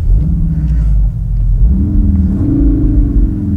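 A CUPRA car on the Slovakiaring race track gives a loud, close engine rumble that revs up, its pitch climbing smoothly under acceleration.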